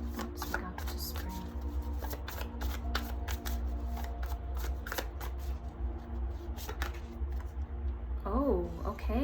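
Tarot cards shuffled by hand in a steady run of crisp riffling flicks, close and fairly loud, while someone talks over them.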